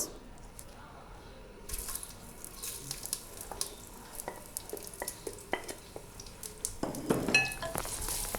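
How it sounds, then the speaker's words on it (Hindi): Onions fry in oil in a clay cooking pot for aloo qeema salan, with a faint sizzle and scattered stirring clinks and scrapes of a utensil against the pot. "1 मिनट फ्राई करने के बाद अब हम इसमें शामिल करेंगे प्याज।"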